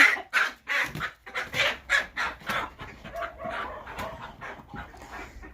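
A small rooster crows and calls in short bursts, close by, alongside other bird clucks and chatter, with no talking.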